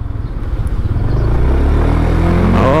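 A 2024 Honda Beat Street 110cc scooter-style motorcycle accelerating, its small engine close and loud, the pitch rising steadily from a throbbing idle into a smooth climbing whine.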